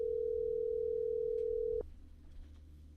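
A steady telephone line tone from an incoming caller on a call-in show, holding one loud, even pitch for nearly two seconds before cutting off abruptly into faint room noise.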